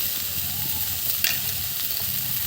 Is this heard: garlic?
yes